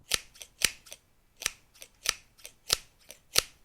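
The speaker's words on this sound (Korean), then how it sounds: "가위질 소리가 조용한 가게 안에 울려 퍼졌죠." Scissors cutting leather at a shoemaker's workbench in a quiet shop, about ten sharp, separate snips spaced irregularly, each one close and crisp against near silence.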